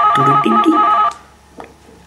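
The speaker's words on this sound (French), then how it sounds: "C'est le téléphone." A loud telephone ringtone sounds as an effect in a Lego Doctor Who animation: a bright electronic ringing phrase lasting about a second, then a faint trailing blip.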